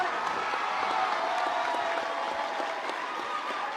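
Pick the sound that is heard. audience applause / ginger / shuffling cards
audience applause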